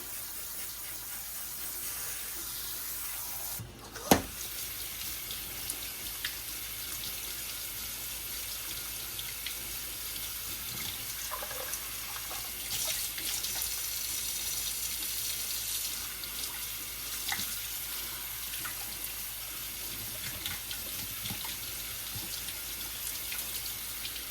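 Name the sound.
spraying elderberries with hot tap water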